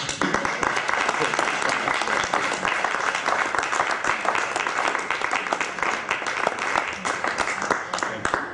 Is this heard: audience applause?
yes